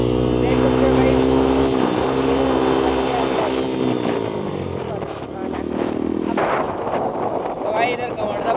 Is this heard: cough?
no